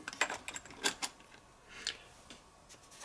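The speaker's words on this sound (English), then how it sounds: "Now the idea is you put a tape in here." A cassette being loaded into a Revox B215 deck, several small plastic clicks and clacks near and quiet, clustered at the start with a few more after a pause.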